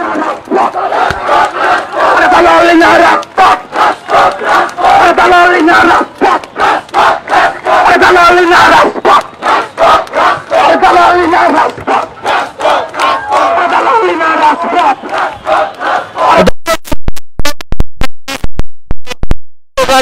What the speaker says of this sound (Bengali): তারা শাহবাগ ব্লকেট করে তারা স্লোগান দিচ্ছে